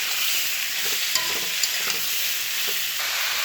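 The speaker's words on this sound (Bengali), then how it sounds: "ধনে গুঁড়ো, জিরে গুঁড়ো, হলুদ গুঁড়ো, ভালো করে মশলাটা কষিয়ে নেব।" Coriander, cumin and turmeric powder masala stir-frying in a pan, a steady bright sizzle running throughout with a few soft spoon scrapes and clicks, close and alone with no talk.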